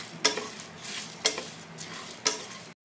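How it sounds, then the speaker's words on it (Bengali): Whole spices frying in a pan for Bengali-style chicken dak bungalow, a close soft sizzle broken by three evenly spaced sharp scrapes of a spoon stirring the pan. "15-20 সেকেন্ড এটা ফ্রাই করা হয়ে গেছে।"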